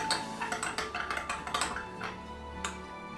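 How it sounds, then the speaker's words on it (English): Spoon clinking and scraping against a bowl while stirring a yeast and sugar mixture, a quick run of light metallic taps and chinks close by with no talk. "Just give that a bit of a stir to get things through."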